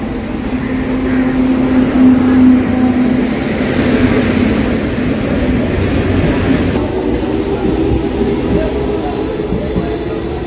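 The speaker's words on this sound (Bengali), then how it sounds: "এই যে আমাদের ট্রেন চলে এসেছে 5 নম্বর প্ল্যাটফর্মে।" A local train arrives at platform 5 of an Indian railway station with a loud, rolling rumble and rattle of wagons close by, amid general platform noise.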